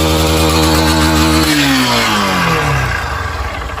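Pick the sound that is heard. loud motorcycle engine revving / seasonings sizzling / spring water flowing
loud motorcycle engine revving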